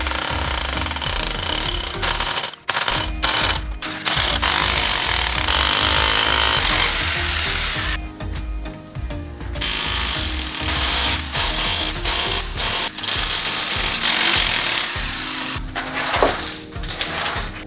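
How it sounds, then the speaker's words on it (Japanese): A power tool grinds and chips away at concrete on a garage slope, a loud, close, continuous rattling hammering roar with a few short pauses and changes in pitch as it bites into the surface. "そしたらコンクリートの方削っていきます。"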